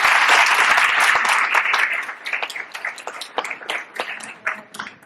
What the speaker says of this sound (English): Please just give a round of applause.